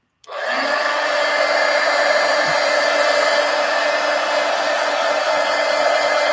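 A heat gun blowing hot air over mixed media artwork switches on abruptly and holds a loud, steady whooshing roar with a motor whine, close and unbroken.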